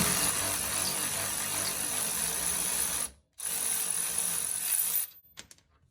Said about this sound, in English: If you don't have an electric ratchet, oh man, they make life easier.